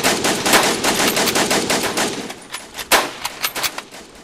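Rapid automatic gunfire from the video game Iron Europe, loud and close, with dense bursts running almost continuously and a few sharper separate shots near the end.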